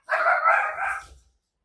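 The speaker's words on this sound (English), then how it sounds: "Sorry for the dogs barking." One dog gives a single loud bark, close by and clear.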